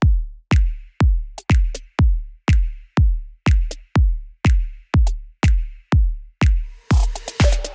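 A Kpop dance beat plays on its own with a deep punchy kick pulsing steadily, sharp snare hits on top, and a fast dense snare roll bursting in near the end.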